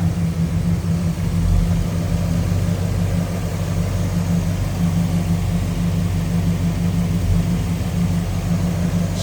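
1961 Pontiac Catalina convertible with a 389 two-barrel V8 idling smoothly nearby, a steady low rumbling hum with an even tone and no revving, no voices.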